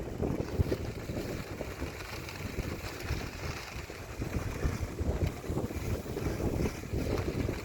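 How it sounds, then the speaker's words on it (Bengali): Strong, gusty wind roars and buffets steadily across an open outdoor spot where kites are being flown, a dense low rumble that swells and eases without a break. "বাতাস অনেক বেশি"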